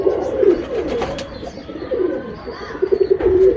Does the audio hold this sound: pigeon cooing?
yes